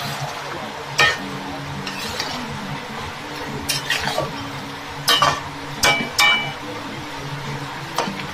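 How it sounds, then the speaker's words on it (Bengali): Chicken curry is stirred in a pot while it cooks down in spices, with scraping spoon strokes and sharp metallic clinks against the pan over a soft, steady sizzle. "10 মিনিট পরে তুলে ভালো করে নেড়ে দিচ্ছি।"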